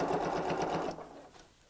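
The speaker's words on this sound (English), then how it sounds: "I'm just going to sew across the seam here" A sewing machine stitches across the seam of a tote bag, set to stitch length 3. It gives a fast, even whirring rattle for about a second, then stops, heard up close with no talking.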